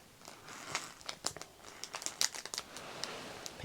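Crinkly plastic packaging from new clothing is squeezed and handled up close, giving a run of soft crackling rustles with sharper crinkles, quiet and alone.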